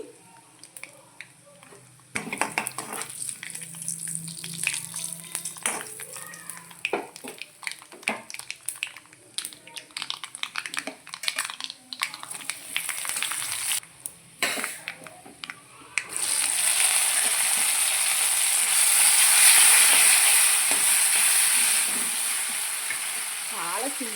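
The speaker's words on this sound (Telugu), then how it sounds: "మీడియం ఫ్లేమ్లో పెట్టుకుని దగ్గరుండి వేయించుకోండి" Tempering spices fry over a medium flame for pumpkin dappalam, with clattering stirs and sizzling that swell into a loud, continuous hiss partway through, close by and with no voice over it.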